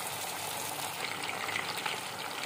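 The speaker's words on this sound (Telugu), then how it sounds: "ఆయిల్ హీట్ అయింది. మనం ముందుగా మ్యారినేట్ చేసుకున్న లాలీపాప్స్ వేసుకుందాం." Marinated chicken lollipops fry in hot oil in a kadai, giving a steady, dense hiss of bubbling oil throughout at a moderate level, with no voices.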